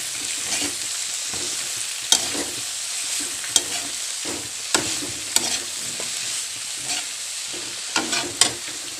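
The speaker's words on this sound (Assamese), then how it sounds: "এতিয়া শাকখিনি দি ধুনীয়াকৈ লৰাই ল'ম।" Leafy greens fry in a hot pan under a constant sizzle, punctuated by rhythmic scrapes and knocks of a spatula as they are stirred.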